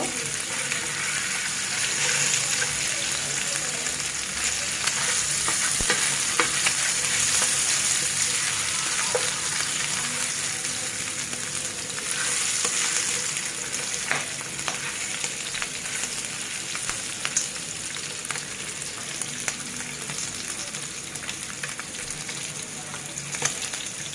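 Eggs frying at medium heat in a pan, a steady dense crackle and sizzle running throughout, close and fairly loud, with occasional faint clinks.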